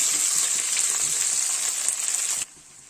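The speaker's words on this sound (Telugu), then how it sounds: "ఇక్కడ నేను మూడు స్పూన్లు ఆయిల్ వేసుకున్నాను ఇందులో కొత్తిమీర వేస్తున్నాను" Coriander leaves frying in about three spoons of oil in a pan give a loud, bright, steady sizzle that cuts off abruptly near the end, leaving faint quiet.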